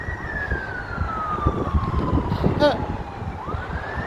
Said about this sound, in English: it's an ambulance motorbike. It's going through.